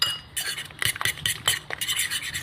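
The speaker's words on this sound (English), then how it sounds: "started mixing it together with the fork" A fork mixes microwaved scrambled eggs in a dish, with quick repeated metallic clinks and scraping taps against the bowl in an uneven, busy rhythm, close and clear.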